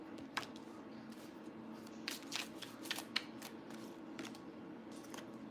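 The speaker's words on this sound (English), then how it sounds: "let's start throwing cards down" Tarot cards from an 80s-themed deck being laid down during a reading, a faint series of soft slaps and riffling card sounds over a quiet room hum, with no speech.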